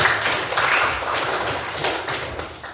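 A class of students applauds, a brisk, continuous patter of many hands close by that gradually thins toward the end, with no talking.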